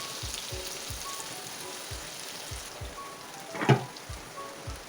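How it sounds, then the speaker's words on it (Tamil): Green chillies sizzle in hot oil, a soft, steady crackle like light rain, with a brief sharper pop partway through and faint rhythmic thumps underneath. "இப்போ எண்ணெய் காஞ்ச உடனே கொஞ்சம் பச்சை மிளகாய் போடணும்"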